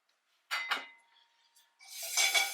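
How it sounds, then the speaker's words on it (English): A frying pan is lifted and set aside after cooking over-easy eggs, two quick close metallic clanks followed by a brighter scraping rattle, in an otherwise quiet kitchen. "Move our pan out of the way."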